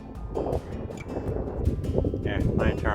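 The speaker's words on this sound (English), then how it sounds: "it's pretty windy up here" Strong wind buffets the microphone on a windy mountain at night along Virginia's Triple Crown Loop, a loud low roar and rumble that swells and gusts, with someone talking over it.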